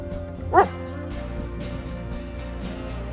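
A dog outdoors after a snow storm gives one short sharp bark near the start, close by, against a quiet background of low steady noise.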